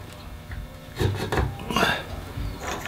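Wooden domino tenons being pressed into tight mortises for a CNC-cut table, a few short scraping, rubbing bursts of wood on wood, close and moderately loud, with quiet pauses between.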